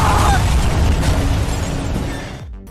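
A building explodes in a film scene: a loud, sustained roaring blast with dense rumble that fills the whole clip and begins to die away near the end.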